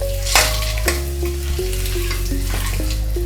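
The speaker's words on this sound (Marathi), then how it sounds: "अंडी मस्त फ्राय करून घ्यायचे एक ते दोन मिनटं आपण अंडी फ्राय करून घेऊया" Boiled eggs fry in a turmeric-spiced masala for egg curry, stirred and scraped in the pan with a continuous close sizzle and an occasional clunk, over a low steady hum.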